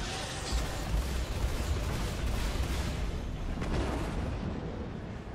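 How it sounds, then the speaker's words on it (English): A missile launch in the space combat game Star Citizen, Arena Commander mode: a continuous rushing, roaring burst of rocket exhaust, fairly quiet and broad, sustained across the whole stretch without pauses. "Achieved missile launch."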